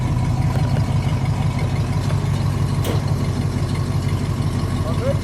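A 1969 Pontiac Grand Prix Model J V8 idles with a steady low rumble close by, while voices murmur faintly in the background.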